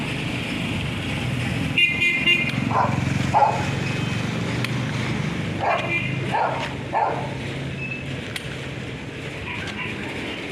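A dog barks a few times in short bursts at a distance, with car horns tooting and road traffic rumbling steadily in the background.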